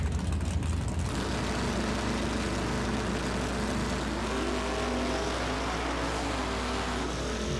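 1978 El Camino and 1979 Camaro drag race cars launching in the first elimination round of a 650 index class, loud sustained engine roar and tire noise filling the clip without a break.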